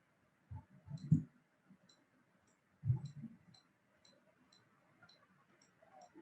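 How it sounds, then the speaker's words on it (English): A computer mouse clicks repeatedly while editing product photos in Photoshop: quiet, close single and double clicks spaced irregularly, with faint rhythmic ticking in the background and no talk. "I'm just clicking away."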